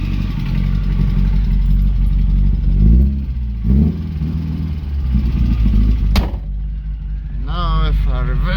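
A 1970 Opel GT idling in neutral, its low, steady engine rumble running throughout with a brief rev in the middle, while people talk over it and cheer near the end.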